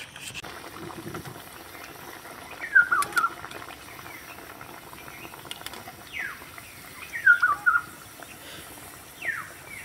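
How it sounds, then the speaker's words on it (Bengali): Potato snacks deep frying in oil over medium heat give a soft, steady sizzle, with a few brief bird-like chirps standing out above it. "আলুর নাস্তাগুলোকে আমি সময় নিয়ে ভেজে নিয়েছি মুচমুচে করে"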